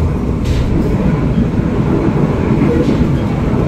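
The KA Pandalungan passenger train, hauled by locomotive 203, rumbles steadily through a curve, heard from on board as a continuous loud roar with faint wheel-squeal flickers.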